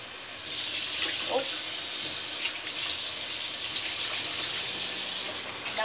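Water runs steadily from a tap into a sink to soak food, a continuous close splashing gush with no talk.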